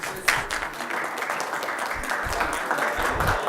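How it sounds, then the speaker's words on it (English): Sustained applause from attendees for students at a youth-in-government student council meeting, steady dense clapping filling the room. "let's give us a real round of applause for all these students"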